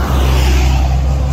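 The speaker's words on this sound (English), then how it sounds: "It's cause we're on the street right now, but cars are right there." Cars on a street by the beach rumble past close by, a loud low engine and road roar that stays steady through a brief moment.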